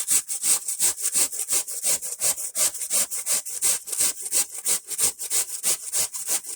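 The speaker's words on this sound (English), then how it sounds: "I remember my grandma grating cabbage this way, using a box grater, because that's what I'm using." Russet potatoes are rasped against a box grater in a quick, even run of about twenty close scraping strokes, each a bright, crisp rub heard on its own at moderate volume.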